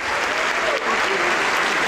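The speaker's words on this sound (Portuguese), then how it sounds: "Vem para cá, vamos aplaudir mais." A church congregation applauds during a worship service, steady dense clapping filling the space at full loudness with no gaps.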